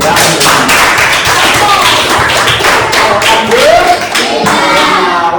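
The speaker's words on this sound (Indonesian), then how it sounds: "Sama-sama kita berikan aplaus untuk semuanya." Applause from a class of students at the close of a morning Islamic religious education lesson, a dense, steady patter of many hands clapping across the whole stretch, with a few voices mixed in.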